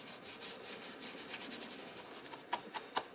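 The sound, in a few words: rubbing paint over matte medium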